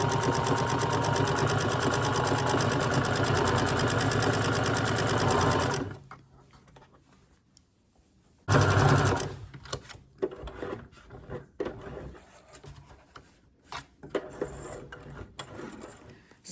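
A sewing machine hems doll clothes made from thrifted baby clothes, running loud and steady for several seconds, stopping briefly, then resuming in shorter, uneven stitching bursts with mechanical whirring.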